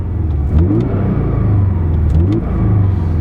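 A 2017 Porsche 718 Cayman's high-performance four-cylinder engine revs loudly and close by, rising and falling in two clear throttle blips over a steady rumble, with no talking.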